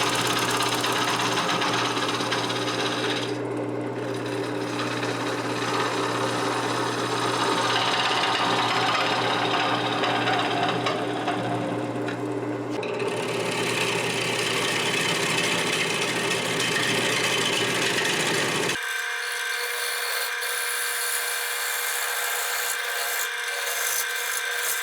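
A wood lathe spins a cedar log while a gouge cuts slowly and steadily, giving a loud continuous whirring rasp and hum that fills most of the stretch before giving way to a quieter, thinner scraping near the end.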